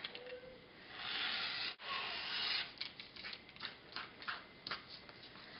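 Scissors or a cutter trims around a paper piecing quilt pattern, producing soft, close rasping and rubbing strokes, a longer scrape followed by a series of short cuts.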